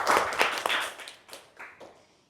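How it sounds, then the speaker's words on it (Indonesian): Classroom listeners clap for a student named Adel during a teaching session, a brief ragged burst of claps up close that thins out into a few scattered last claps. "tepuk tangan dulu untuk Adel"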